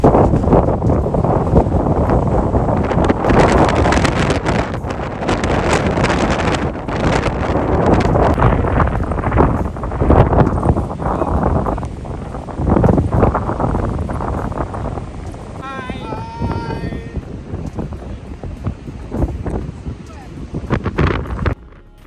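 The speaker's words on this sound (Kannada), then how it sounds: "ಇವತ್ತು ಆ್ಯಕ್ಚುಲಿ ಎಕ್ಸ್ಟ್ರೀಮ್ ಕ್ಲೈಮೇಟ್ ಇದೆ, ಅಂದರೆ ತುಂಬ ಮಳೆ ಇದೆ ಮತ್ತು ಗಾಳಿನೂ ಇದೆ, ಅದರಿಂದ ವೇವ್ಸ್ ಎಲ್ಲ ಸಿಕ್ಕಾಪಟ್ಟೆ ಇದೆ" Strong gusting wind roars and buffets the microphone at Atlantic City beach during stormy, rainy weather, with rough waves surging beneath and blowing sand; the noise is loud and continuous, and a voice briefly comes through.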